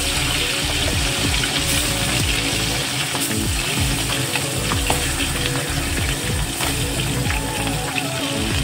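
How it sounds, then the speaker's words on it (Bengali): Steady loud sizzling of a salted, turmeric-rubbed fish head frying in hot oil, continuous and close, with faint crackles throughout. "তেলটা গরম হয়ে গেছে, এবার মাছের মাথাটা ভেজে নেব।"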